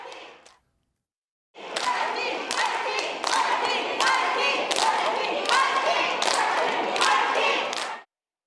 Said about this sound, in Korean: 한 전 대표가 등장하자 박수와 환호가 쏟아졌습니다.